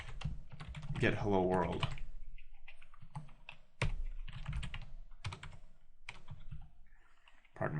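Keys clatter on a computer keyboard as code is entered in the Eclipse editor, rapid uneven taps close up, mixed with a man's speech at the start.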